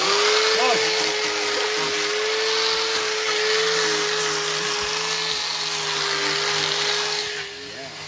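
A steady, high-pitched electric whine of a power sander sanding wood in a garage, running continuously at close range, with a few brief voice-like sounds in the background, easing off near the end.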